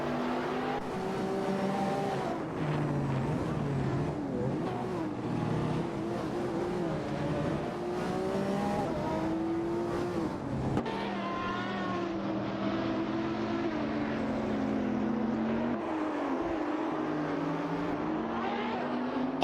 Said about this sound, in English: Ation 1792 in the Ferrari 599 GTO is also in the mix for the 11th position